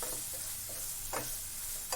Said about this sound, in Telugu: టమోటాస్ వేసాక మరి కొద్దిగా సాల్ట్ వేస్తున్నా.